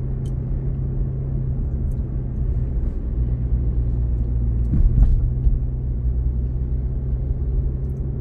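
A car drives along Franklin Street in Garden City, giving a steady low cabin rumble and engine hum with faint passing road noise. No one speaks.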